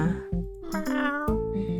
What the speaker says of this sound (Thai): มีเสียงน้องแมวด้วย